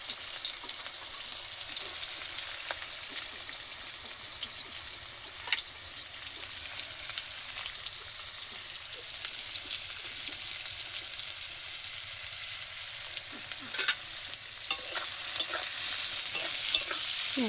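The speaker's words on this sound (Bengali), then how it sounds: "তেলের মধ্যে পেঁয়াজ দিয়ে দিয়েছে, পেঁয়াজটাকে ভালো করে একটু নাড়াচাড়া করে নেবে।" Onions frying in oil over a clay stove, a continuous bright sizzle with a spoon stirring and scraping throughout, occasional clicks and knocks, close and steady with no talking.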